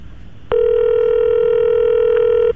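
A steady telephone dial tone comes on abruptly and holds loud and unbroken for about two seconds, heard alone.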